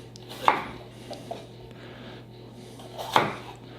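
A kitchen knife cuts a yellow bell pepper into thin strips on a cutting board. Two crisp, separate chops sound close by, with a faint tap between them in a quiet room.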